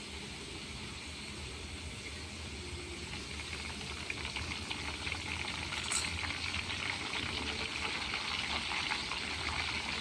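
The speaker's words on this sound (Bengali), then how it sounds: "আলুগুলো আমি লাল করে ভেজে নেব।" Raw potato slices for crisp chips fry in hot oil over a clay stove, a steady, faint sizzle and bubble throughout, swelling slightly near the end with one brief sharp crackle.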